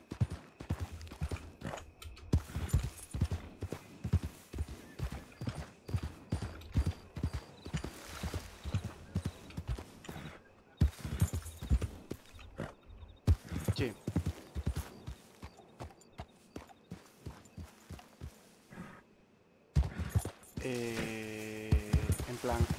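Horse hooves clip-clop repeatedly in Red Dead Redemption 2, a steady rhythmic trot mixed under continuous conversation, with a low hum in the background.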